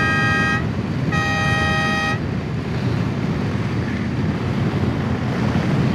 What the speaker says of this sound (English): Then I put on air horn just for emergencies.